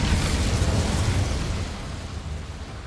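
A continuous roaring whoosh of the Incendio fire spell in Hogwarts Legacy, cast inside a small goblin mine, a broad loud rumble that holds steady then eases slightly toward the end, with no talking.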